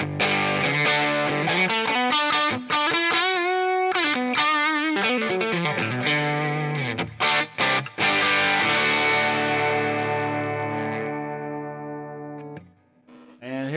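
An electric guitar plays through a Fender Princeton Reverb amp turned all the way up, routed through a Quilter Toneblock 202 and a speaker cabinet, giving loud, distorted chords and riffs that ring out and fade near the end.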